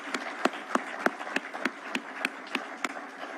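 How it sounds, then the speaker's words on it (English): An audience at a public event clapping for the election commission chairman and commissioners, heard as slow, evenly spaced claps in a steady rhythm against a faint crowd bed. "please let us clap for those great people."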